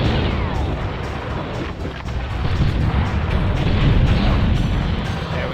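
Turrets blow up in the N64 game BattleTanx Global Assault, a dense rolling roar of explosions and rumbling blasts that swells and sustains loudly across the whole stretch.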